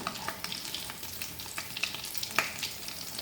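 Chicken and potato kababs frying in oil, a steady close crackling sizzle with scattered pops and a few sharper spits, continuous throughout with no talking.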